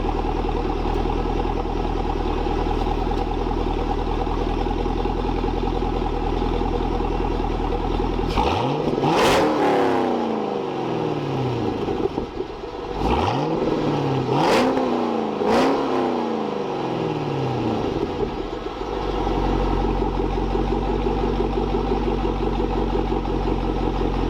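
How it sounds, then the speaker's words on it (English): A car engine revs hard three times in succession, each burst climbing and falling back, over a steady idle that continues before and after; the car may have a mid-muffler delete, and the sound is close and loud. "Let's do some revs."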